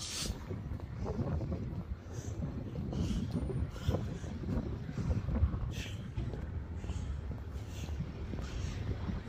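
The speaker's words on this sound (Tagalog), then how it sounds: "Mahangin sa labas. Ang hangin-hangin sa labas." Strong wind outdoors buffeting the microphone, a continuous low rumbling roar with gusty swells throughout.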